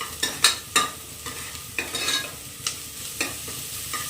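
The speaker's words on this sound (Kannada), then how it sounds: "ಇವಾಗ ಈರುಳ್ಳಿ ಜೊತೆ ಅದು ಕೂಡ ನೀಟಾಗಿ ಫ್ರೈ ಆಗಲಿ." Ginger garlic paste and onion fry in hot oil in a pan, with a soft continuous sizzle broken by repeated sharp scraping clicks as the mixture is stirred, close and fairly loud.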